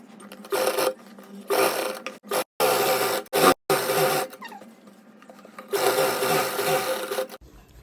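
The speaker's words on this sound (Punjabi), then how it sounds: "ਤੇ ਹੁਣ ਇਹਨੂੰ ਇਧਰਲੀ ਸਾਈਡ ਤੋਂ ਬਿਲਕੁਲ ਨਾਲ ਨਾਲ ਇਹਦੇ ਸਲਾਈ ਮਾਰਨੀ ਸ਼ੁਰੂ ਕਰ ਦੇਣੀ ਹੈ" An electric sewing machine stitching a shirt collar runs in a series of short and longer bursts with brief pauses between. It is steady, close and loud, with no talking.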